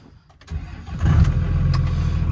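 A diesel dually pickup truck cranks briefly after a grid heater cycle, then fires up instantly and settles into a loud, steady rumbling idle close by.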